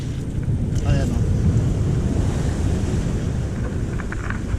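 Rough sea with big ocean waves surging around a small fishing boat, a loud, steady wash of surf and wind buffeting close by, with brief faint voices in the background.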